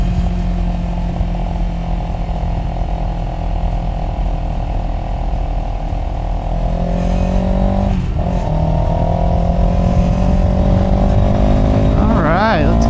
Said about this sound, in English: Alright, let's get after it a little bit on the CF Moto.